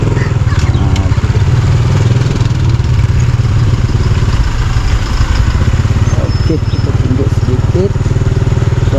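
A motorcycle engine runs steadily at close range with a low, even drone and a little clatter, on a ride to a morning market at Pandamaran, with faint background activity.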